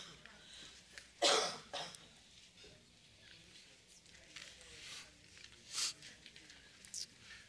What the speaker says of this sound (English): if I get to coughing really bad